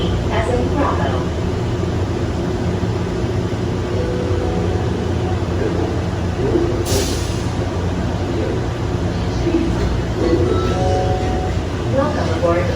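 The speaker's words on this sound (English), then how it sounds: "Welcome aboard the plane train." The Plane Train people mover at Hartsfield-Jackson Atlanta International Airport runs in night service mode. A steady, dense rumble carries throughout, with one brief bright hiss partway through.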